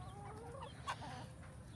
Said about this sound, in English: Chicken. Chicken. Chicken. Chicken. Chicken.